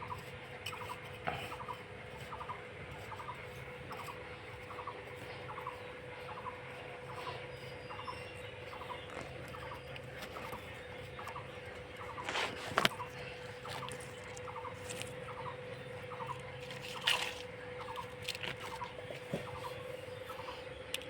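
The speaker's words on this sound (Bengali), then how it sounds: "ওই জন্য একটু আমি খুঁড়ে দিচ্ছি" Soil is dug around the base of a pomegranate tree with repeated soft scraping strokes in a steady rhythm. Occasional louder scuffs and knocks sound over a faint, constant hum.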